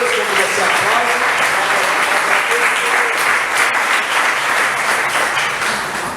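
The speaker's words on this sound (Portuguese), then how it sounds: "Aplauda ao Senhor, diga glória a Deus quando você aplaude." A church congregation claps loudly and continuously, a full, even roar of applause with voices mixed in, fading slightly at the close.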